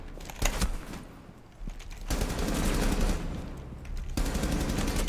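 Gunfire in the video game Rainbow Six Siege bursts out in loud, close automatic volleys. A short rattle comes first, then a brief pause, then longer sustained bursts of rapid shots.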